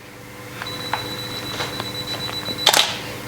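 A digital camera's two-second self-timer ticks off a few faint short beeps over a steady tone, then the shutter fires with a sharp, quick mechanical click-clack near the end.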